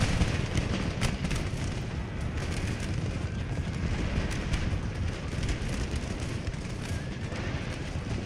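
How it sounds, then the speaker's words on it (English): Dense, continuous rumbling barrage of cannon and gun fire in the video game Empire: Total War, with scattered sharper cracks, loud and unbroken throughout, like a large battle raging. "Cannons fire."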